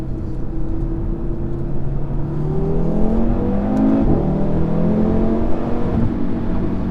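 A 2017 Audi RS3 saloon engine climbs steadily above 4000 RPM, its tone rising from a warble to a loud, sustained roar, heard continuously without speech.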